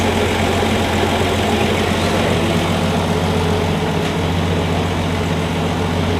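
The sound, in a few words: 1965 Valiant Slant 6 engine running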